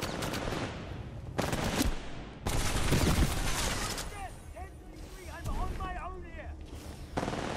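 Gunfire bursts from a Titanfall 2 match on Xbox One: loud, dense volleys come in repeated bursts, with sharp electronic chirps and game effects between them and busy background noise throughout.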